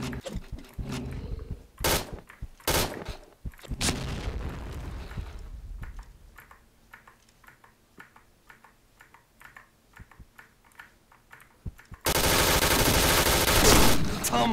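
Gunfire in the shooter Point Blank during a clan match, with several sharp loud shots early on, quieter clicking and keyboard tapping in the middle, and a loud burst of noise at the end.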